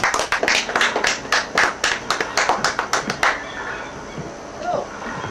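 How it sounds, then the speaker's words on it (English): Clapping greets actors coming out on stage, a run of sharp distinct claps that sound like a small group, stopping after about three seconds and leaving a quieter room with faint sounds. "with a round of applause, let's bring out our actors"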